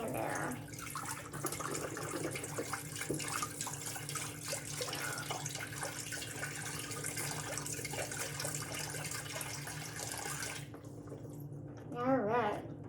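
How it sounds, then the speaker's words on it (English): A 32-ounce carton of chicken broth poured into a pot, a continuous splashing gush of liquid that runs steadily for several seconds before cutting off, followed by a short clink at the end. "this one is a 32-ounce chicken broth. Dump the whole thing in there."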